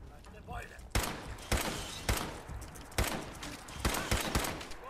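Gunfire in the video game Fallout 4 comes as a run of loud, sharp shots spaced roughly a second apart, each with a brief burst of noise after it. A player's voice talks underneath the shots.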